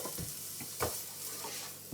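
Chunky chorizo pieces hit hot oil in a pan on a plug-in hob, a close crackling sizzle broken by stirring scrapes and a sharp burst as more meat drops in.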